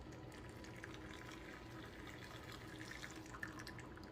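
Sugar syrup trickles from a pour into a baking dish around apple dumplings, a faint, steady liquid stream with small drips and splashes in a quiet kitchen.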